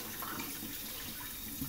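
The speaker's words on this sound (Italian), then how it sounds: "Acqua calda, lo passi sotto velocemente" Hot tap water runs steadily as a plate is quickly rinsed under it while serving a pasta dish of speck and ricotta, a soft continuous splashing hiss in a kitchen sink.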